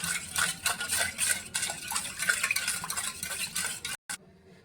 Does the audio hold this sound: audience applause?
no